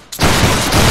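A musket volley fired by a line of infantry in a Napoleonic Wars battle game, one loud dense burst of many shots merging into a single sustained crackling roar at close range.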